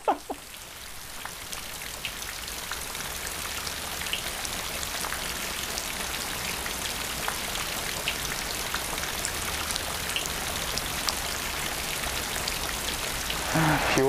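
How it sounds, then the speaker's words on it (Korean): Steady rain falls on an open-sided traditional Korean pavilion beside a pond in the Gimcheon countryside, a dense, even hiss that carries on unbroken for fourteen seconds at moderate volume. "갑자기 또 비가 오네"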